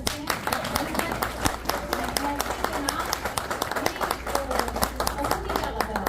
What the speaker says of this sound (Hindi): एक मरतबा आप चाहें तो तालियां बजा सकते हैं